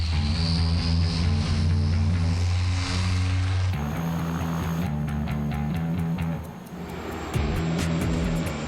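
Steady, loud drone of a cargo plane's engines in flight, with strong low tonal hum and broadband roar holding throughout, shifting slightly midway as if the cabin position changes.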